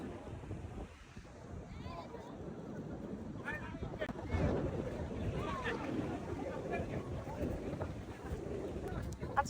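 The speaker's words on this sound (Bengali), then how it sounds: "বাতাস হচ্ছে" Strong wind buffets the microphone on the beach at Cox's Bazar, with a continuous roar of surf beneath it and faint voices of people nearby.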